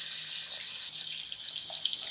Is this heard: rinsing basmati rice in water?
yes